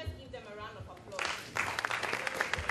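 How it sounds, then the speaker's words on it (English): Audience at a UNESCO youth peace workshop forum breaks into applause for the participants, a dense burst of clapping rising sharply and continuing loudly, preceded by brief speech. "Let's give them a round of applause"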